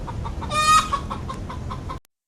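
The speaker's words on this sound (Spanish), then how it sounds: "la gallina empezó a cantar como si fuese un gallo" A hen gives a crowing, rooster-like call mixed with clucking, loud and close for about two seconds over a farmyard background, then cuts off.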